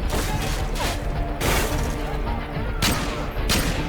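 Bursts of rapid gunfire in Call of Duty Modern Warfare 2's No Russian mission, loud and dense, with repeated volleys and booming impacts filling the scene.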